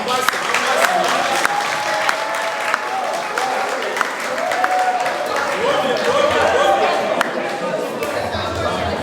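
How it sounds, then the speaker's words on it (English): Guests at a 60th birthday and graduation party in Milton Keynes, UK, clap together in sustained applause with some crowd chatter mixed in, loud and close throughout. "So let's all give a clap for her."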